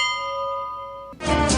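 A chow bell rings with a single clear struck tone that rings out and slowly fades, then gives way abruptly to a loud burst of broadband noise.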